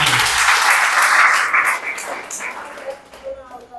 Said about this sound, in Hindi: हाथ ताली बजाकर प्रभु को धन्यवाद